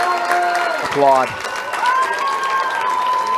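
Fans at a high school baseball game applaud in a steady wash of clapping and crowd noise, with a loud whistle-like pitched tone sliding through early on and a pitched hum later.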